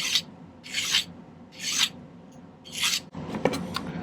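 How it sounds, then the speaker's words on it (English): A metal file rasps across a handmade silver locket in four distinct strokes with pauses between them, close and clear, followed by a few lighter scrapes and taps. "I may do a little bit of filing on this thing to make sure that it lines up nicely"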